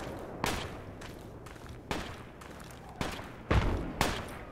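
Distant gunfire in the tactical shooter game Project Reality, five sharp single shots spaced irregularly across the clip over a steady low ambient rumble, with no talk.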